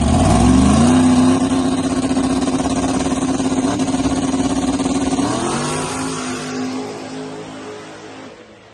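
Race car engine at a racing event revved hard at full throttle, a loud sustained high-pitched scream that holds then winds down and fades toward the end.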